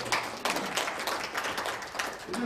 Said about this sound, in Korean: 자축박수 한번 다시 해주시죠.